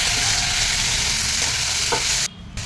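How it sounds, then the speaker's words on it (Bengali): Beans and potatoes lightly frying with salt, turmeric and chili powder in a home kitchen, a bright continuous sizzle with stirring scrapes, close and loud, then a brief dip before the sizzle resumes. "আমার সবজিগুলো দেওয়া হয়ে গেছে, অল্প লবণ, হলুদ আর লঙ্কা গুঁড়ো দিয়ে হালকা ভেজে নেব।"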